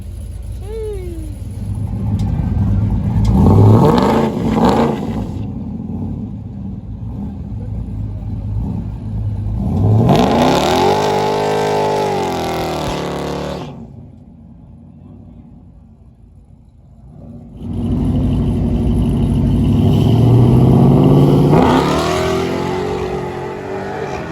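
A cammed 5.3 Chevrolet S10 with bolt-ons, heads and a 100-shot of nitrous races down a drag strip, its engine roaring loudly in rising bursts that climb through the gears, with a brief lull before another hard run.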